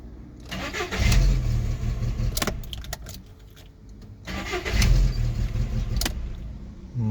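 A Skoda Octavia engine cranks and catches within about half a turn, settling into a steady idle, then is started a second time the same way, loud and close with no talk.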